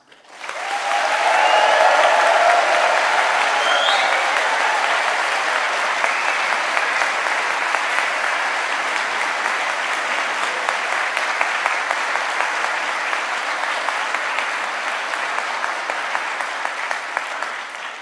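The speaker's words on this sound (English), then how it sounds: "I think you should give yourselves another round of applause" A large crowd gives sustained, loud applause at a Liverpool University graduation ceremony for the School of Arts, rising quickly and holding steady for a long stretch.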